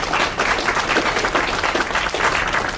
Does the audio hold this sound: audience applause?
yes